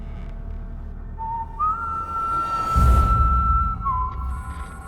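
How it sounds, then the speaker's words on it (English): Whistling like a person, heard during a nighttime paranormal investigation: a thin, steady whistled note that jumps up in pitch and holds, then dips slightly, fairly quiet over faint background rumble. "It sounds like a person whistling."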